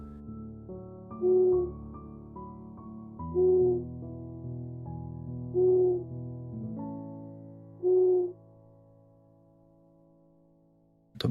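An owl hoots at night: four clear, evenly spaced hoots a couple of seconds apart, set over a soft, sustained tonal backdrop.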